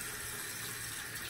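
Steady water from a tap runs continuously and fairly softly, a smooth even hiss while skin is washed before shaving.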